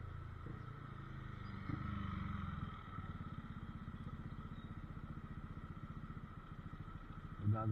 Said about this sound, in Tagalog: Gaganda ng mga motor nila